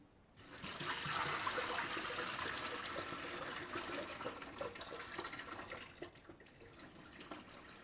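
Water poured off rinsed basmati rice, a steady rushing pour and trickle that swells, holds for several seconds, then thins and tapers away with a few drips.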